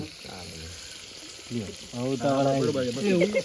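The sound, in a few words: tempering sizzling in oil for khaman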